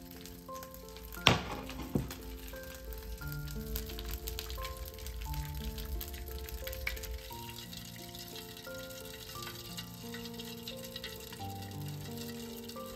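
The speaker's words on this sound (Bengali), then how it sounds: "তো চলুন এখন এই ঘিটা ছাঁকনির সাহায্যে ভালো মতো করে ছেঁকে নিই, আর প্রচণ্ড গরম রয়েছে তো আস্তে আস্তে করে ছেঁকে নিতে হবে।" Hot homemade ghee, freshly cooked, pours and trickles slowly through a metal strainer, a steady close sizzle and liquid patter with a sharp clink near the start and no voices.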